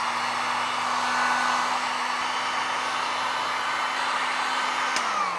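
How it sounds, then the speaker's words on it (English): Heat gun blowing hot air onto a pottery cut-off wire, a loud, steady whooshing roar with a constant motor whine that runs unbroken throughout, with no one speaking. "I'm just going to blast this with the heat gun for maybe 45 seconds."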